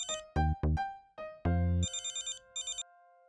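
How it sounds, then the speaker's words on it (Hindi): A mobile phone ringtone plays alone: a bright melodic run of tones followed by a rapid, repeating electronic trill, clear and close. "विराट फोन कर जाएगा, फोन दो प्लीज"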